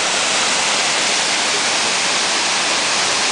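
A small waterfall in New Zealand pours in a dense, steady roar of rushing water, loud and continuous with no voices.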